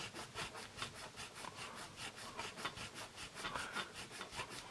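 A Dixon Pink Carnation eraser scrubs pencil marks off paper in quick, steady back-and-forth strokes, a soft rhythmic rasping that is close but faint.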